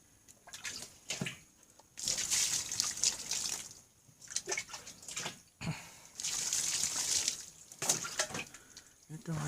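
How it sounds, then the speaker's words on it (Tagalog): Tap water gushes in bursts into a sink or basin as feet are washed at a small kubo house in Cavinti, Laguna. The splashing stops and starts, with short quiet gaps between pours. "Maghugas lang tayo ng paa."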